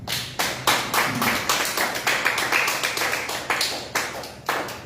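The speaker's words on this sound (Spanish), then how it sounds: "Dale una ofrenda de palmas al Señor" A church congregation claps in a steady, even rhythm for the Lord during a Sunday service, a dozen or so crisp unified beats at a moderate pace, fairly close, with no talking.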